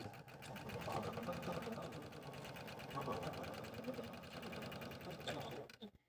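Sewing machine stitching felt squirrel accessory pieces, a fast steady close mechanical whir running continuously, then stopping at the end.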